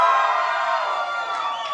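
Graduates cheering at a commencement ceremony: a loud, sustained burst of whooping and shouting from a small but vocal group, continuing without talk for a couple of seconds.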